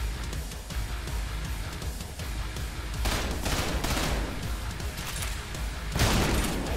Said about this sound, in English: Shoot the big red tube.